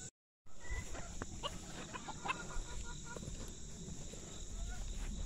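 Backyard hens cluck at feeding time, short repeated clucks over a steady high insect-like hiss, moderately near and fairly soft throughout.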